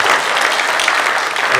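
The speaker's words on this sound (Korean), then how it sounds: "다시 한번 박수." Applause from a crowd at a political gathering in a press center hall, a steady dense wash of clapping sustained throughout without pause.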